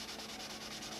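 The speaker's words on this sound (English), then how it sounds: "I'm just taking 400, I'm sanding it dry of course, and just running over all the high spots of the silver" Dry 400-grit sandpaper is rubbed over the silver finish of an '87 Nobler model airplane. Faint, close, steady scratchy strokes pulse in a quick rhythm with nothing else audible.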